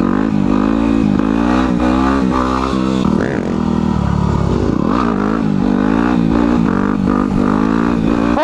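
A motorcycle ridden past a police station with its fuel light on roars loudly and steadily, the engine revving up and down with clattering mechanical noise as it accelerates, close and dominant throughout with no talking.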